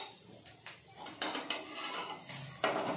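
Crispy beetroot cutlets are lifted from a pan onto a plate, a few quick metallic spatula scrapes and light clinks against cookware, close and fairly quiet with short louder knocks.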